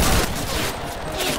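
Rapid gunfire bursts from a Cuisine Royale battle royale match, a dense rattling volley up close that thins into scattered shots, with a voice faintly under the din.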